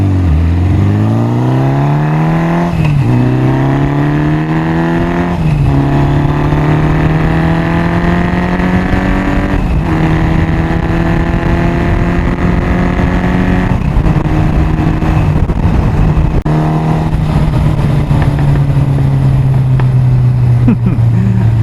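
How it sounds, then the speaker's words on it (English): Old Honda 750 Four motorcycle engine running steadily close up while riding, its pitch rising and falling with throttle, with a few sharp pops from the exhaust when the throttle closes. "Backfires loads, this bike."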